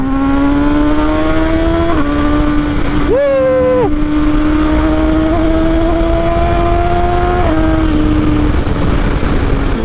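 A stock Honda XR motorcycle engine runs steadily close by, with a strong harmonic drone that rises sharply in a quick rev around the middle, then settles back to a steady run with a small pitch shift near the end.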